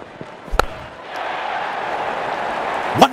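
A sharp crack of a cricket bat striking a ball for a six in a T20 match between India and Sri Lanka, followed by a rising roar of a distant crowd.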